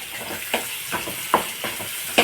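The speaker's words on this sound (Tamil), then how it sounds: "நல்லா வதக்கி விடணும்." Green chillies, curry leaves and coriander sautéing in a pan for a tamarind-leaf chicken curry, giving a steady soft sizzle broken by a few louder stirring scrapes, close and moderately loud with no talking.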